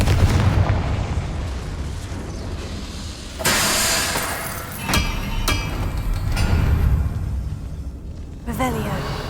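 Confringo fire spell explosions in Hogwarts Legacy, with a loud, sudden blast bursting out midway and another sharp burst near the end, over a steady background of game ambience and rumble.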